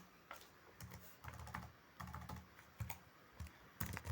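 Typing on a computer keyboard while entering figures into a budget record, quick bursts of close key clicks separated by short pauses, faint and with no voices.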